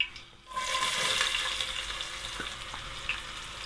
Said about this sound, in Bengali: পেঁয়াজগুলোকে একটু হালকা ব্রাউন করে ভেজে নিব